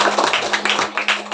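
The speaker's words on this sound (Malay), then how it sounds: "Okey, bagi tepukan." A group of students clapping their hands at an alternative school on Pulau Opak, a short burst of close, loud, uneven claps.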